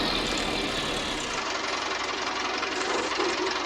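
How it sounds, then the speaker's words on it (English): A 1968-era loader tractor engine running on a farm: a continuous, rough, knocking engine drone with steady loudness throughout and no talking. "We will get the loader tractor back to the farm"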